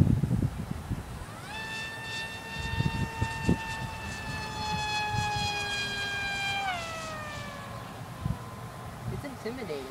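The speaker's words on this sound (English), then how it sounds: "I'm scared to throttle it. That was half throttle." Hawk Sky RC model jet flying at half throttle, a thin rising whine that holds steady overhead and then drops in pitch as it passes, heard under nearby talking and wind.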